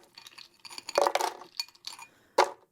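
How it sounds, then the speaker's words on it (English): Ice cubes clink and rattle against the glass jar of a high-speed blender in several short, bright bursts with gaps between them, ending in one sharp knock, close up and fairly quiet. "about 5 or 6 ice cubes in there"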